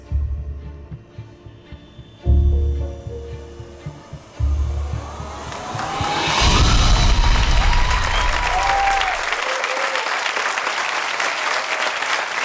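Loud studio audience applause and cheering on a televised magic show, swelling from scattered claps into a sustained full ovation with some musical tones underneath.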